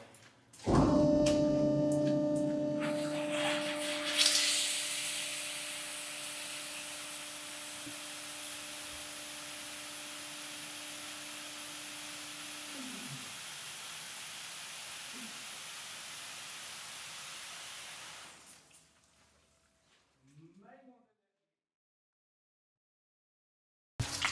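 Steady broadband hiss of pressurized water spraying from a mining dust-control nozzle, starting abruptly and running continuously for most of the clip before cutting off.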